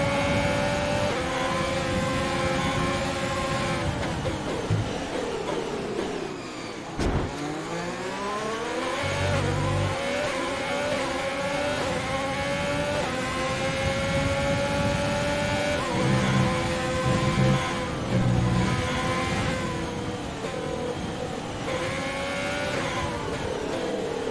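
Formula 1 race cars in the F1 2020 video game on a final race lap, engines screaming loud and continuous with rising and falling gear-shift whines, a sharp downshift dip midway, then revving back up throughout.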